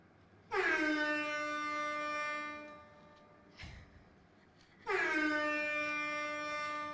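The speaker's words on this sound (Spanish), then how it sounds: "un sonido de bocina constante, constante, constante" Two long, loud blasts of a brassy horn, each held for a couple of seconds, separated by a short pause with a faint thump.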